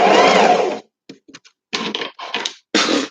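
Short mechanical bursts of a sewing machine stitching, starting with a longer whir, then a few brief taps and several quick runs, close up.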